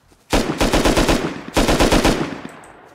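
Two bursts of rapid automatic gunfire in the survival video game Rust, each a loud run of closely spaced shots about a second long, separated by a short pause, with no talking.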